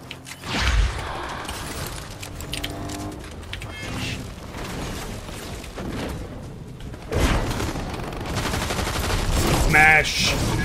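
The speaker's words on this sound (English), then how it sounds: "One more person who is shooting at me." Gunfire in Fortnite from an opponent shooting from a bridge: scattered rapid shots and booms over mechanical game clatter, with a louder burst toward the end and some voice in the mix.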